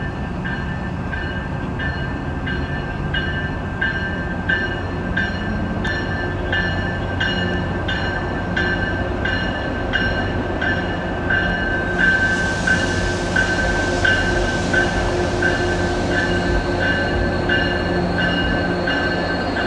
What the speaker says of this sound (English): there's a train coming as we exit the station.